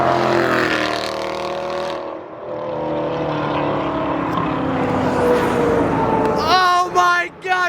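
Straight-piped C8 Corvette roars past on a highway, loud engine note rising then sweeping away as it passes, with brief chatter at the end.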